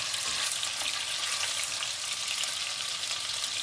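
Beef olives browning in a hot pan, giving off a steady, loud, even sizzle of frying meat that carries through the whole stretch without pause and with no voices.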